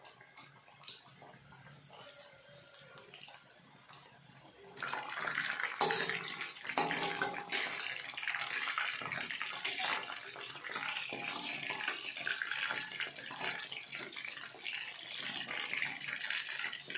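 Chicken pieces dropped into hot oil over a medium flame burst into loud, continuous sizzling and crackling after a quieter start, steady and close for the rest.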